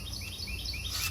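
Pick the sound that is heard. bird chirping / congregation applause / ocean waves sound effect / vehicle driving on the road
bird chirping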